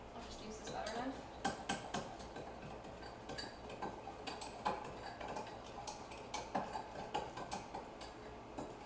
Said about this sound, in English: And then I'm going to stir that. I'll just use this butter knife.